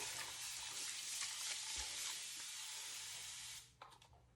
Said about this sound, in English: Little water spray.